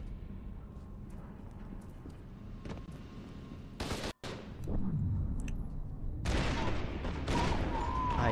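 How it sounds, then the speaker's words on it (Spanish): Gunfire in the shooter video game F.E.A.R. 2, with bursts of shots and sharp bangs over rumbling game ambience, growing louder and denser in the second half. "Uy, más disparos"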